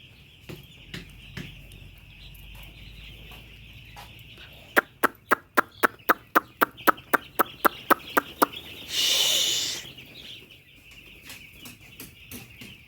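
Four-day-old poultry chicks chirp steadily in a brooder. Midway, a fast run of sharp, evenly spaced taps cuts in, followed by a brief rushing burst, then the soft chirping carries on.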